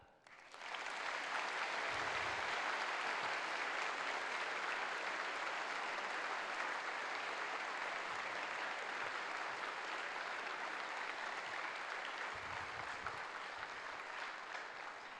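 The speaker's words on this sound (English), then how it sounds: "Let's give a huge clap." A large crowd at an engineering faculty graduation ceremony applauds continuously, a dense, even wash of clapping that holds steady for about fifteen seconds.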